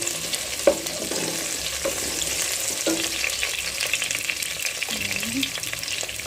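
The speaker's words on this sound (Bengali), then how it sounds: "পেঁয়াজগুলোকে ভালো করে ভেজে নেব। আমার পেঁয়াজগুলো ভাজা হয়ে এসেছে।" Onions frying in oil with cardamom, cloves, cinnamon and bay leaves for vegetable khichuri: a constant crackling sizzle with occasional stirring clinks, close and moderately loud.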